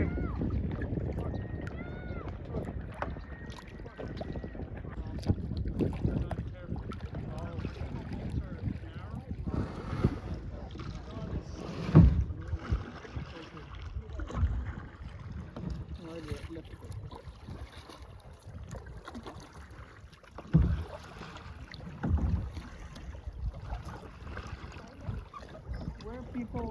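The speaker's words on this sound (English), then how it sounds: "So when you paddle, push your arm out." Sea kayak paddling on open coastal water off Nova Scotia, with steady splashing and sloshing strokes under gusty wind buffeting the microphone, broken by occasional louder knocks.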